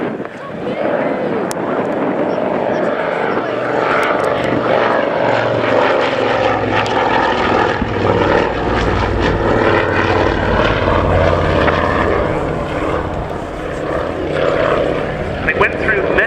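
Avro Anson, a twin-engine propeller aircraft built in 1946, passing in a display flyby at Scampton Airshow; a steady, loud droning engine roar holds throughout with a slight swell midway, and a voice speaks over it.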